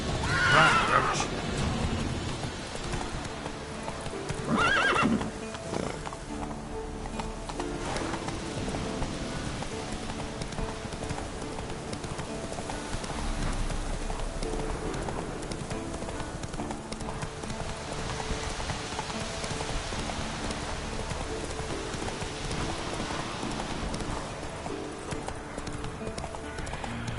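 Roach, a horse in a video game, gallops with rhythmic clip-clopping hooves over a steady rain-like bed, with occasional whinnies and a brief voice near the start.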